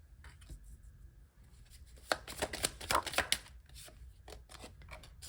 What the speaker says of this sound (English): I'm feeling pulled to pull some cards over here